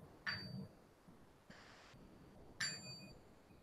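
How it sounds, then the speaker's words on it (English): Two clear meditation bell strikes, each ringing with a bright sustained tone that fades slowly, separated by a quieter gap, with no talking. "The 3 bells and stop."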